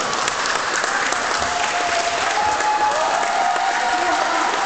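A crowd applauds at a youth basketball tournament game between PYRA Poznań and GTK Gdynia in Poznań, 2011, with dense, steady clapping filling the hall throughout.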